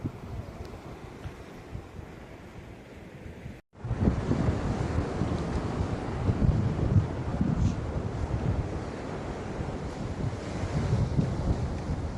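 Sea waves wash continuously onto the shore at Harihareshwar on the Konkan coast, a steady broadband roar mixed with wind buffeting the microphone, growing louder after a brief cut.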